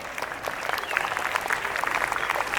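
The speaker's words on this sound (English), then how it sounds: "Let's applause for them once again." Audience applause following a performance at a Republic Day celebration, a moderate, fairly steady patter of many hands clapping at some distance.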